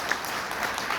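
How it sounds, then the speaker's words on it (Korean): Guests at a wedding ceremony applaud, a brief burst of steady, dense clapping from a crowd of people nearby. "다시 한번 뜨거운 박수 부탁드립니다"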